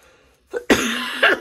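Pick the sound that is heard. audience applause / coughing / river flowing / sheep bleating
coughing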